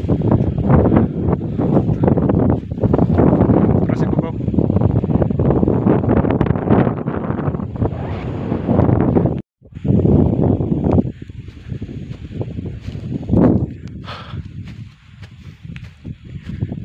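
Strong wind blows outdoors, loud gusty rumbling buffets the microphone almost without pause, cuts out briefly, then returns a little weaker.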